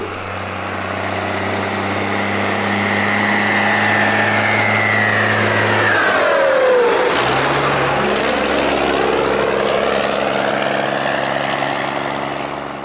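A JCB Fastrac 4220 iCON tractor's engine drones loud and steady throughout, its pitch dropping sharply partway through as it shifts or eases off, then settling into a lower, continuous rumble with no talk.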